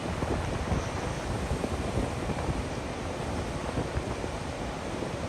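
Horseshoe Falls at Niagara Falls thunders as a steady, dense roar of crashing water, broad and unbroken throughout, mixed with wind buffeting the microphone.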